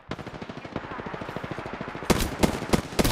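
Rapid automatic gunfire in Apex Legends, a dense rattle of shots that swells into louder, sharper bursts near the end, with no speech over it.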